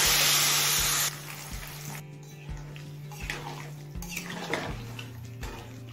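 Hot water poured into a pan of vegetables cooking for a savoury patishapta filling, a loud rushing splash and hiss for about a second, then quieter bubbling with light clinks of a utensil against the pan.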